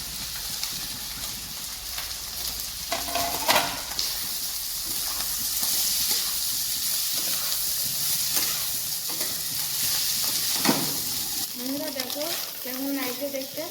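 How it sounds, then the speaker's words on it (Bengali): Egg and potato curry sizzles steadily in a pan, with intermittent scraping stirs throughout; a voice speaks briefly near the end over the frying. "তাহলে ডিম আলু কষিয়ে নেবো ভালো করে"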